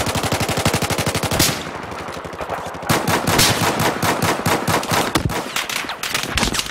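Automatic gunfire in the video game Battlefield 4: loud, rapid bursts of machine-gun fire repeat almost without pause, close and dense, with brief gaps between volleys.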